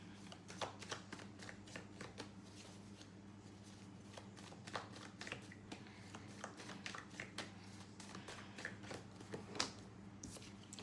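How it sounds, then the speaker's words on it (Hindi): A deck of playing cards is shuffled by hand, a quiet, steady run of soft riffling taps and flicks close by over a low constant background hum, with no talking. "I will shuffle the cards."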